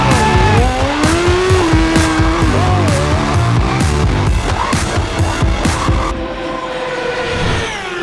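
Racing motorcycles, four bikes bunched together on a circuit, scream past with loud, rising and falling engine notes and sharp changes, close and continuous for several seconds.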